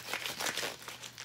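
Crinkling foil as a Moe's Southwest Grill Grande Homewrecker burrito wrapped in foil is cut open, quick soft crunchy rustles close by, fairly quiet, with no talk.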